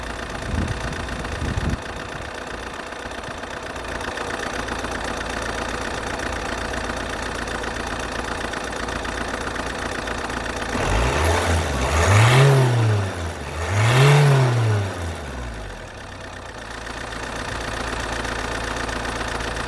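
A Vauxhall Signum car engine idles steadily throughout, with two brief revs that rise and fall before settling back to a steady hum.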